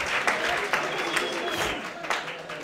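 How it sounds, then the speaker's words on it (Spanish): Lecture audience applauding an Austrian-school economist at an economics lesson, a dense sustained wash of clapping with a few sharper claps standing out. "vamos a dar un aplauso"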